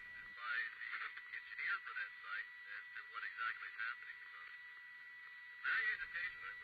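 Radio transmitter signal played back in real time through a Doppler DDF7001 direction finder, a thin band-limited chirping, warbling tone with bursts and gaps, quiet and radio-like, with no clear talk.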